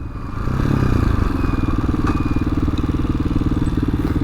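A TaoTao TBR7 motorcycle rides outdoors, its engine a loud, steady, rumbling drone that holds close and constant throughout.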